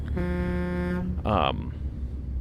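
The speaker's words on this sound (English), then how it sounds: "we have figured out why we honk at yellow trucks" A truck horn in American Truck Simulator blares a long steady tone, then a second shorter blast, loud and close over a low engine rumble.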